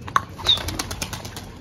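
A pigeon takes off close by, its wings clapping in a quick burst of rapid flaps that fades within about a second and a half.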